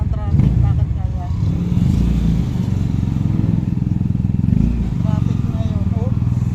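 Motorcycles and cars crawl through town traffic in summer, engines rumbling and revving close by with horn-like chirps, while a person talks over the continuous din.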